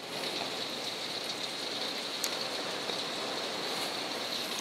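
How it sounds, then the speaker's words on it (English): Heavy rain pours steadily throughout, a dense unbroken hiss of water drumming on surfaces with no voices. "It's raining sheets, actually."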